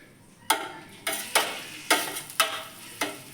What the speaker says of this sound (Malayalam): ഇനി വെളുത്തുള്ളിയും ചുവന്നുള്ളിയും ഒന്ന് ഇളക്കി കൊടുക്കാം